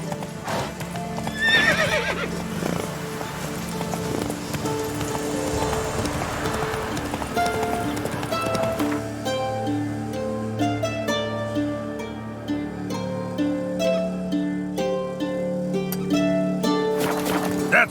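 Roach, the horse in The Witcher 3: Wild Hunt, gallops with a fast, steady rhythm of hoof clip-clops. A whinny comes early on, and faint game music plays underneath.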